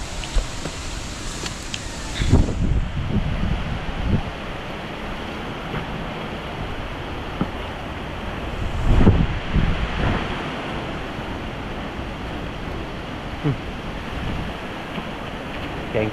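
Strong wind roars steadily against the microphone outdoors, with a few louder buffeting gusts rising out of the constant rushing noise and no speech.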